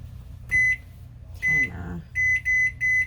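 An oven timer being set gives short, loud electronic beeps: one, then another, then three in a quick row, with a faint rustle between them.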